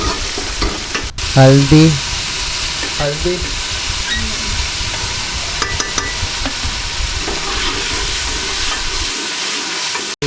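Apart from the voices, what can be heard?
spices frying and being stirred for daal mash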